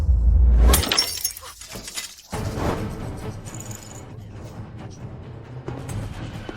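A drinking glass drops and shatters with a loud crash at the start, followed by scattered tinkling of glass pieces and a second burst of breaking, then quieter scraping and settling debris.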